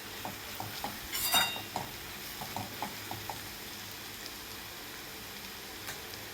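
Paneer bhurji masala sizzles softly in a pan while a spoon stirs it, scraping and tapping against the metal in irregular strokes over a faint steady fry, with one louder clatter early on.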